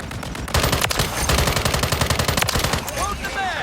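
Rapid automatic gunfire in Modern Warfare 3 hardcore mode, a loud close burst of evenly spaced shots that starts after a brief pause and rattles on for several seconds, with no one speaking.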